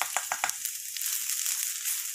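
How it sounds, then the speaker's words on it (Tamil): Grated coconut and milk powder fry in ghee in a pan. A bright, continuous sizzle runs the whole time, with a few quick stirring scrapes near the start, and there is no talking. "இது கூடவே தேங்காவை சேர்த்து நம்ம வதக்கிக்கலாம்."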